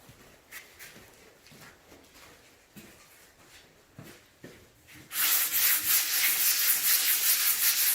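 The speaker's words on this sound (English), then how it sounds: "I'm going to start off by sanding the table with a 120 grit sandpaper" 120-grit sandpaper rubs a concrete tabletop in short scratchy strokes at first, then turns into a loud, continuous hissing scrape for the last few seconds.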